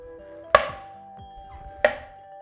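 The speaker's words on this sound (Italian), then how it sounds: "per prima cosa ovviamente abbiamo bisogno di tagliare i nostri funghi" A kitchen knife slices mushrooms into thick slices on a cutting board for risotto, two crisp, separate chops about a second apart over a quiet background hum.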